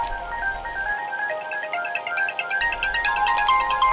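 A mobile phone rings with a melodic electronic ringtone, steady and fairly loud, repeating its tune for several seconds without speech.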